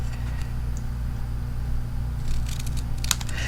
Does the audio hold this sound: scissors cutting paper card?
yes